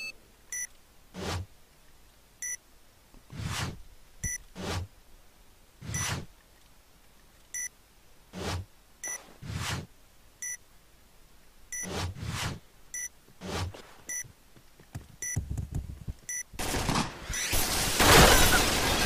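Regular short beeps from a planted bomb in a competitive Counter-Strike-style shooter match, spaced a couple of seconds apart and growing denser, with louder bursts of gunfire or noise near the end; no talk.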